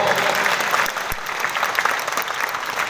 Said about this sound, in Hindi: आप लोग सहमत हैं तो जरा जोरदार तालियां हो जाए